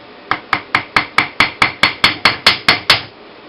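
A hammer taps a wire ring on a steel mandrel in a quick, steady series of about thirteen bright, close metallic strikes, roughly one every fifth of a second, with no voices.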